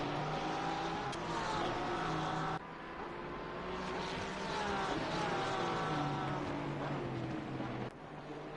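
Porsche race cars dueling around the Nordschleife in a racing video game, their engines droning steadily with rising and falling pitch as they shift gears, heard alone and continuously.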